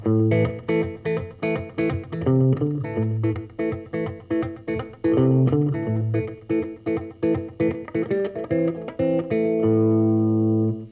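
A choppy electric guitar blues riff with repeated muted, rhythmic plucks in a steady shuffle, ending on a sustained chord, played solo and up close.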